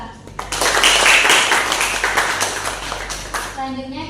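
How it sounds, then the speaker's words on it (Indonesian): Children in a classroom applaud a presenting group, their scattered hand claps swelling into loud, busy applause that thins out and fades near the end as a voice begins speaking. "Anak-anak bisa beri tepuk tangan untuk kelompok 2."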